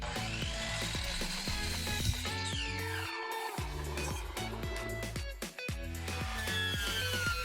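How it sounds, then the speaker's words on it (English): Power saw cutting wooden shutter frame pieces, a whining motor with rhythmic clattering cuts, brief dips between passes, steady and close with no talk. "Time to cut the side frame pieces."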